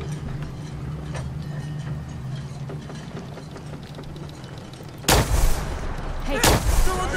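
Gunfire in Fallout 4: a steady low hum of game ambience, then two loud, sharp bursts of shots arrive close together near the end.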